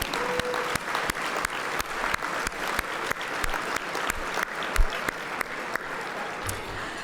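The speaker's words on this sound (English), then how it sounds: "How about a big round of applause for the whole family?" At an award dinner, a banquet audience applauds a family in a sustained round of clapping, with sharp individual claps standing out against the steady wash of hands.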